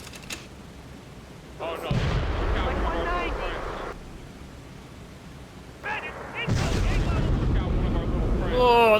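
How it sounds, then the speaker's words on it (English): Mid-air explosions of fighter planes in the B-17 The Mighty 8th video game, heavy low booming bursts around two seconds and again near six and a half seconds, with a voice speaking between and over them. "They're just exploding in midair."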